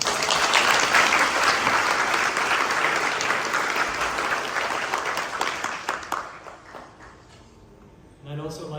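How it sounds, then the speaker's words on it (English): Sustained applause from a gala audience at an Elizabeth Taylor Foundation evening, dense and loud for about six seconds before thinning out, followed by a voice starting to speak. "if I may ask for another applause for everybody here"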